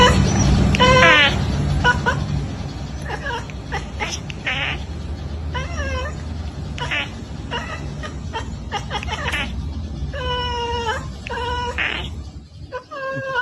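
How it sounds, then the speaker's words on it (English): A cat makes repeated rapid chattering, chirping calls at a bird in short bursts, fairly close, with quiet background noise between them. "I don't know why cats make that noise when they see a bird."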